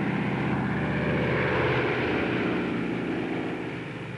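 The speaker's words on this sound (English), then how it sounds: "the transport towed the glider into position for the takeoff run" A propeller-driven transport plane, a Skytrain, towing a glider for takeoff drones loudly and steadily with a dense engine roar and throbbing propeller tone that eases slightly toward the end.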